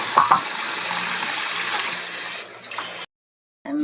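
Water is poured into a pan of cooking pancit canton, a loud, steady rushing splash for about three seconds that tapers off, followed by a brief silence, with no talk.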